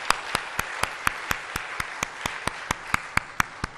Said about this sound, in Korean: 힘찬 격려와 사랑의 박수 한번 부탁드립니다